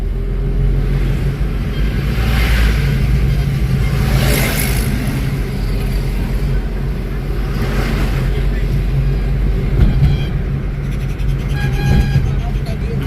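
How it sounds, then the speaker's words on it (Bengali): Buses rumble past one after another on a road in West Bengal on a trip toward Digha, with engine roar swelling and fading over several seconds, horns tooting now and then, and a person talking over the traffic. "ফেরার বাসগুলো যাচ্ছে পরপর আর হ্যাঁ মানে বাসগুলো এত রাস যাচ্ছে"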